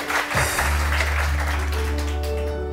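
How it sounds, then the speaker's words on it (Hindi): Studio audience applause on a morning television show swells briefly, with a steady low musical hum beneath the clapping. "वारिस के लिए बहुत सारी तालियां।"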